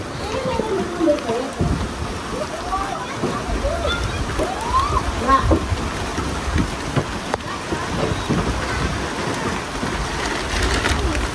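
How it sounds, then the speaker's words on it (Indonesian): Rain begins falling outdoors near a fish pond at a rural transmigration settlement, a steady broadband patter with occasional bird calls and a voice talking over it. "Ini sudah mulai turun hujan sobat survivor"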